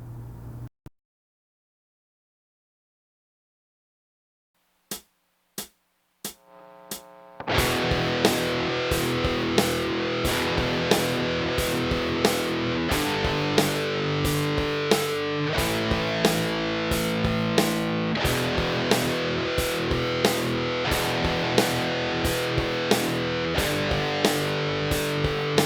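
Distorted electric guitar plays a steady rock riff of power chords at 90 BPM, loud and continuous after a few sparse opening strums and a short silence.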